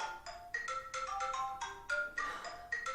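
A five-year-old's phone used for video games plays a bright electronic ringtone-like melody, a quick sequence of chiming tones repeating over a few seconds, fairly clear and unaccompanied by talk.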